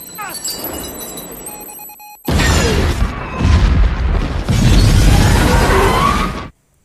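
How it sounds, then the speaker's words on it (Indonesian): Bomb thrown aboard a train in a heist film bursts with a sudden loud boom, followed by a sustained roaring crash and rumble, with a narrating voice over the quieter opening. "Bom berhasil meledak namun korban berhasil diminimalisir."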